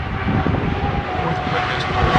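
Scott Dixon's IndyCar runs an Indy 500 qualifying lap at about 232 mph, a loud, steady high-pitched engine roar with a rushing, slightly wavering tone, close and sustained.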